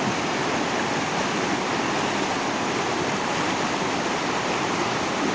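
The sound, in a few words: roar of waterfalls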